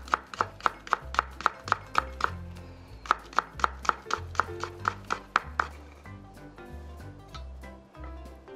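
A kitchen knife julienning cucumber into thin 0.2 cm strips on a cutting board: rapid, evenly spaced sharp chops in two long runs, close and crisp, with quieter shuffling afterward.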